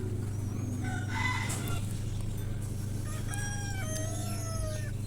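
Roosters crow repeatedly and hens cluck on a farm raising native desi chickens, with several rising and falling crows overlapping above a steady background of clucking and farmyard noise, fairly close and with no one talking.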